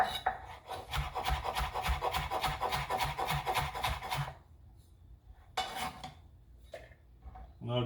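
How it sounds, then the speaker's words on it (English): A knife cuts sweet potato into thin julienne strips on a board: a steady run of close, rapid rasping chops for about four seconds, then a pause and a few shorter bursts of cutting. "I'm gonna julienne these, and we're gonna get some flour on them"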